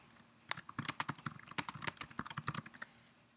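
Fingers tap out a quick, irregular burst of keystrokes on a computer keyboard, a fairly quiet run of clicks close by lasting about three seconds.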